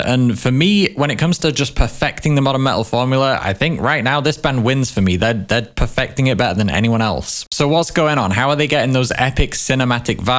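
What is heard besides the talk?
No everyday noises stand out.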